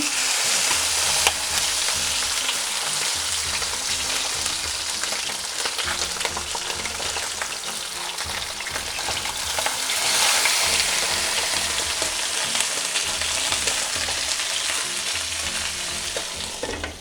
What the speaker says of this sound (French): On va laisser cuire encore. On va tourner notre poisson.